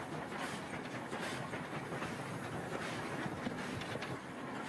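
Steam locomotive hauling a single, much newer passenger wagon on the Steppes train, heard as a steady, loud rolling rumble with hiss and rhythmic clatter of wheels on rails throughout.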